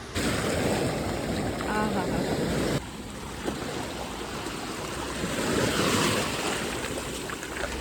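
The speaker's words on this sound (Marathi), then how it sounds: "फक्त लाटांचा आवाज, पूर्ण शांतता." Steady broadband wash of surf breaking on a South Goa beach, with wind rumble on the microphone throughout; waves swell and recede without any talking.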